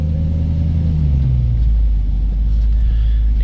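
A 1972 Ford Mustang Sprint engine pulls away while driving, a loud close low rumble that rises briefly in pitch as it revs, then settles into a steady growl.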